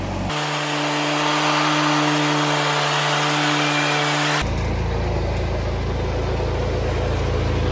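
An old John Deere 400 tractor engine runs with a loud, steady drone for about four seconds, then gives way to a rougher, noisier wash of sound that continues to the end.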